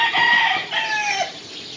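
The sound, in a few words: rooster crowing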